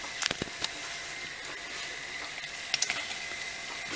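Pieces of pork fat frying down into lard, a quiet continuous sizzle close by, broken by a few sharp pops and spits.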